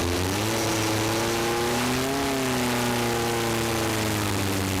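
Vintage race cars roll off the grid onto the track at Summit Point, West Virginia, in an SVRA event. A loud, close engine drones steadily with a gentle rise and fall in pitch.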